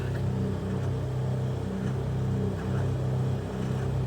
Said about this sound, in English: Dual outboard still running good.